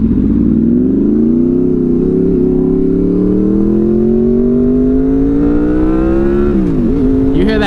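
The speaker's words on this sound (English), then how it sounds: "You hear that VTEC?" Honda VFR800 motorcycle engine revving hard and climbing steadily in pitch as it pulls into the VTEC range, loud and close throughout, then dipping briefly as it shifts before rising again.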